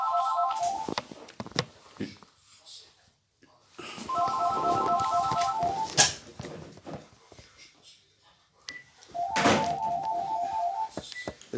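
A telephone rings in repeated bursts of a bright electronic ringtone, three rounds spaced across the span, over room noise with thumps and someone talking in French between rings.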